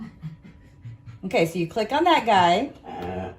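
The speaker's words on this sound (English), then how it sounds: "That's my dog" A dog pants softly in short, rhythmic huffs at the start. A person then speaks over it, largely covering the breathing.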